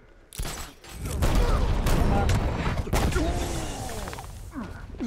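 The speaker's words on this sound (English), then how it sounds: "Stupid sentry guns." Sentry guns fire in the Batman: Arkham Knight video game, a loud, dense burst of rapid gunfire with booming impacts and crashes that fills most of the stretch, with sweeping whooshes near the end.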